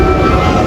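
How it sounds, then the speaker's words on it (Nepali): A train arrives at a station, a loud, steady rumble of rolling wheels and carriages close by, with no other sounds over it. "हामी चढ्ने ट्रेन चाहिँ आउँदैछ"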